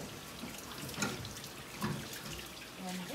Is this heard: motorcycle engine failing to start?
no